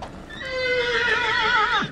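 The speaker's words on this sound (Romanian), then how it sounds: "Așa, donatură mare de cai, marfă de calitate." Close and loud, a stallion at a Bucovina horse event gives one long, wavering neigh that rises then trembles downward before cutting off, with faint background noise.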